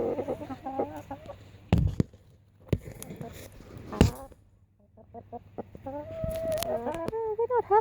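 Chickens clucking over an amaranth leaf in a garden, soft scattered clucks and short squawks with a few sharp knocks, building to a run of rising, warbling calls at the end.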